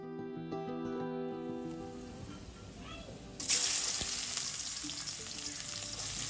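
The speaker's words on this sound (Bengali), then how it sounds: "পেঁয়াজটা ভাজতে দিয়ে দিলাম" Onions fry in hot oil in a pan at home, with a low steady sizzle that surges into a loud, bright hiss partway through and holds there, with no talking.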